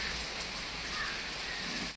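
Rain falling steadily, an even broadband patter and hiss that holds for about two seconds before cutting off abruptly, with no speech.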